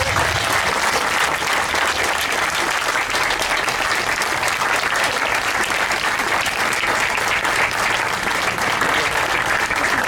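Sustained audience applause at a community charity event, a dense, steady wash of many hands clapping throughout, loud and continuous with no pauses.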